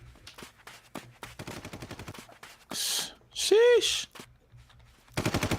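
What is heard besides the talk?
SMG gunfire in a video game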